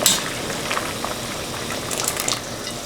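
Sea beans boil in a pot of water on the stove, sending up a dense, close bubbling and rolling simmer with small pops. It is fairly loud, and no voice is heard.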